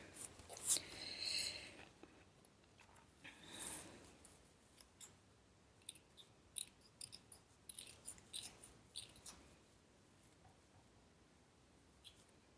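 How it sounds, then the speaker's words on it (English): Scissors snip through paper flower stems for a magazine journal page, a few sharp, quiet cuts early on followed by soft scattered taps and paper handling in a hushed room. "At least between the stems I should cut it."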